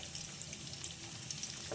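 Faint, steady sizzle of vegetables with water spinach and mung dal frying in a pan, a continuous low hiss throughout with a slight stir near the end.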